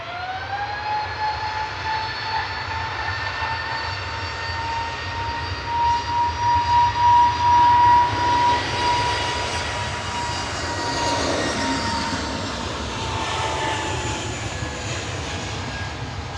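An EasyJet Airbus A320neo jet departs Manchester Airport with a sustained roar and a high engine whine, swelling louder midway and fading slightly at a distance.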